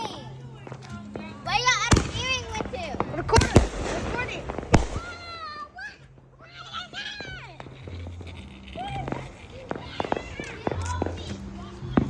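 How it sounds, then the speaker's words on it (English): Fireworks pop and crackle in sharp bursts across the clip, some loud and near and others fainter, while children talk and footsteps shuffle nearby. "Hey, I'm recording this fireworks."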